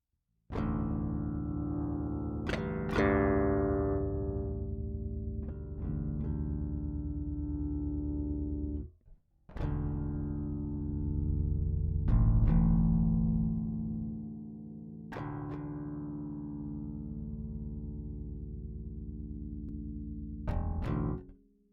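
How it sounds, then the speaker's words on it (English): Open bass guitar strings plucked one at a time through an LHZ HL-1 HAZard LAMPS preamp pedal, each note ringing out long and full, with a tone that shifts and sweeps between notes. "I'm going to hit some open strings so you can hear what the sweep sounds like"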